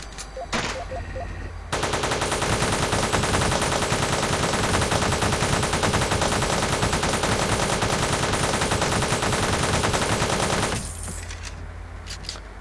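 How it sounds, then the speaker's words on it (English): Enemies fire guns at the player in Teleglitch: a dense, continuous burst of rapid automatic gunfire runs loud for about nine seconds, then cuts off, with scattered fainter shots and clicks before and after. "there's some people firing at me"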